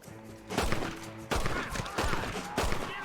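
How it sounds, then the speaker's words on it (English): Gunfire in the Red Dead Redemption Fort Mercer mission, with several loud, sharp bursts of shots spaced about a second apart over a steady background. "I knew there was someone shooting me over here."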